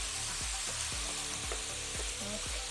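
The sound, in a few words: garlic, onions and mushrooms frying in a pan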